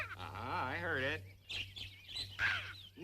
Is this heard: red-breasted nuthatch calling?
yes